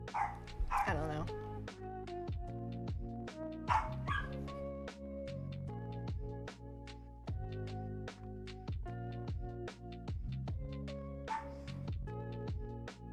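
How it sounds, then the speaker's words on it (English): A pet dog lets out loud, close barks and yips, a few at a time, over music with sliding, falling notes. Some whiny higher yelps are scattered through. "I apologize for my dog barking."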